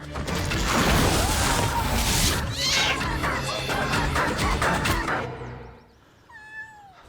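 A kitten meows within a loud, dense mix of crashing action sounds and noise in a drama scene, the noise cutting off near the end to leave a few high, thin cries.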